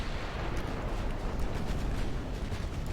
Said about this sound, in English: I want the battleships to fire at that battleship now